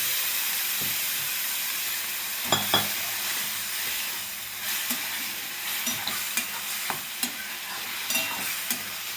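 Curry being stirred in a pan over a low sizzle, with scattered scraping clinks of the spoon at irregular intervals.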